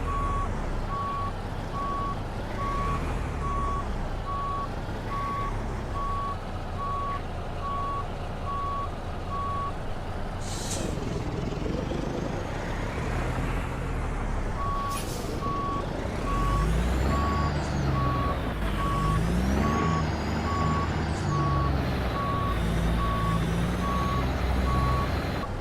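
A CAT CT660 truck backs up in American Truck Simulator, its reversing alarm beeping in a steady regular rhythm over a deep diesel engine rumble, pausing briefly before resuming, with occasional air hisses.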